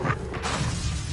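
Incendio fire spell cast in the Hogwarts Legacy video game: a dense, roaring burst of magical fire with a crackling whoosh, loud and continuous for about a second with no voices.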